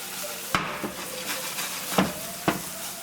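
Garlic stirred briskly in a hot pan on a lowered stove, a steady sizzle under a few sharp scraping clacks of the spatula against the metal at irregular intervals.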